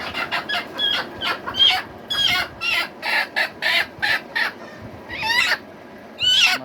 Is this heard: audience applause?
no